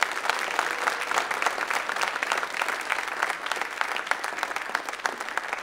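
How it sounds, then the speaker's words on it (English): Steady audience applause at a school writers' event, dense continuous clapping from a crowd that holds evenly for several seconds with no talk over it. "Round of applause."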